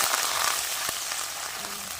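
Onions, ginger and green chilli fry in hot oil in a pan, a steady dense sizzle and crackle that fills the whole moment, close and even, with no voices.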